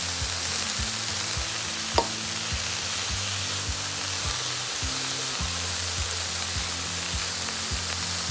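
Shredded cabbage and carrot fry in a pan for a Salvadoran chicken sandwich filling, a steady close sizzle with soft, regular scraping strokes of stirring and one brief clink, no talk.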